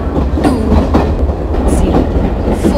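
Gatimaan Express rolling into a station platform in an Indian train simulator game at night, a steady loud rumble with rhythmic wheel clatter over rail joints throughout, no talk.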